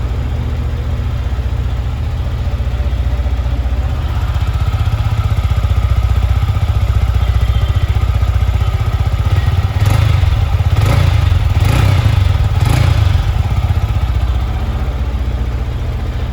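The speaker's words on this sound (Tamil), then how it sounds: "இருந்தாலும் நீங்கள் கிராங்கிங் சவுண்ட் வந்து காட்டுறேன் பாருங்கள்." A 2022 Yamaha MT15 motorcycle engine cranks and rumbles steadily at idle, low and close, with a few sharp revving bursts or clatters near the end.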